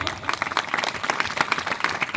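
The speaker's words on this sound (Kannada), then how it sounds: "ಚಪ್ಪಾಳೆ ತಟ್ಟಬೇಕು ಜೋರ" A church congregation at Calvary Preeti Ministries in Bidar bursts into brief, dense applause, many hands clapping loudly together.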